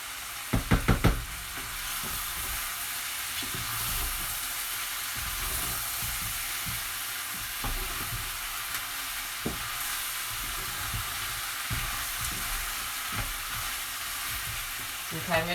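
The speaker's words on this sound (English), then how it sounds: "so that's starting to sizzle and cook away" Coq au vin ingredients sizzle in a pan, a continuous close frying hiss broken by occasional knocks and stirring clatters, with a burst of sharp clicks near the start.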